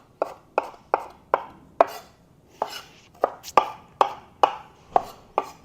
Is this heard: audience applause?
no